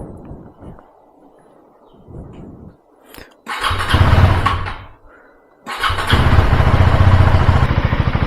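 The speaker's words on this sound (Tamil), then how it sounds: "ஸோ இப்போது இந்த பைக் எடுத்துகிட்டு நம்ம கிளம்ப போகிறோம்" A KTM Duke 390 motorcycle is cranked and fires up in two loud bursts, then settles into a steady, throbbing idle, after faint quiet sounds at the start.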